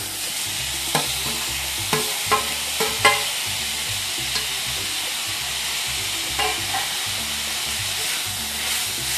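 Tomatoes frying in masala in a pan, a continuous hiss of sizzling with scattered scraping knocks of a spoon stirring, close and alone.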